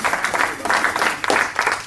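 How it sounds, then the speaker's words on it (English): Applause for a band member during a recording session, a burst of clapping that swells and pauses several times, fairly close and moderately loud. "Big round of applause for this cat,"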